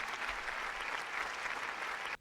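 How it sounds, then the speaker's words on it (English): A round of applause, a crowd of hands clapping in a dense even wash for about two seconds before cutting off abruptly. "let's get a round of applause for that, man"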